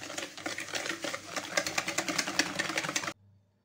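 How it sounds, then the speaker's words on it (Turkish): An electric mixer whisks sugar into cake batter for baklava with a fast, rhythmic whirring and beater rattling for about three seconds, then stops abruptly. "Şeker eriyene kadar çırpmaya devam ediyoruz."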